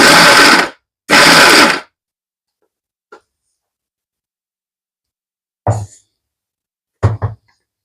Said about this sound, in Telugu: ఇలా ఆన్ ఆఫ్ చేస్తూ పడితే మన రోట్లో నూరిన పచ్చడి లాగానే ఉంటుంది